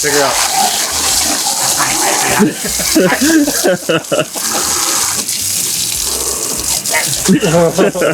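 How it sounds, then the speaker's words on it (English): Water gushes steadily and loudly from a hose throughout, a continuous splashing rush with voices talking over it. "Water hose. Water hose."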